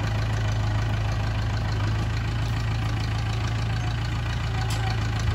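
A tractor engine idles steadily nearby, a loud continuous low rumble with a regular knocking pulse that holds unchanged throughout.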